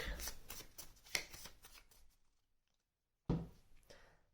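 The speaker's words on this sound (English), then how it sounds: "and shuffle the goal deck" Cards are riffled in a quick rapid flutter, then a pause of near silence before another brief shuffle, close and crisp.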